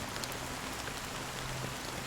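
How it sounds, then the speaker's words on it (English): Rain in the video game Honkai: Star Rail, a continuous dense patter of falling water, steady and fairly soft, with a faint low tone beneath it and no voices. "It won't stop raining."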